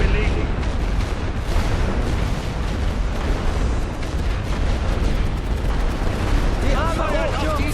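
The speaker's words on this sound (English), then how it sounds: "Sperrfeuerwalze befohlen." A creeping artillery barrage in the World War I game The Great War: Western Front rolls on as a dense, continuous rumble of overlapping booms and blasts, loud and unbroken, with a voice briefly heard near the end.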